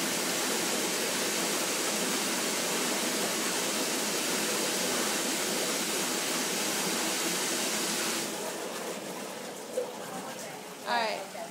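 Water rushes steadily into a pump tank in a pump room, a dense hiss of pouring and churning that drops off near the end, followed by faint gurgling and a brief voice.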